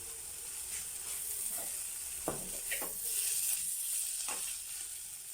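Steady frying sizzle with a spoon scraping and stirring egg parotta mixture through the pan in a few irregular strokes, close up, no voices.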